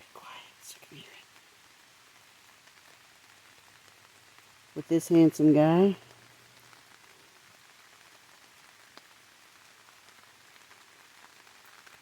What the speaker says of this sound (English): we're going to lay here and enjoy the rain